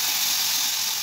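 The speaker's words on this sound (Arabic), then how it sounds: "الخل يغلي بالشكل ده" White vinegar boiling hard in a pan with peppers and garlic, a steady loud hiss and sizzle, close and unbroken throughout.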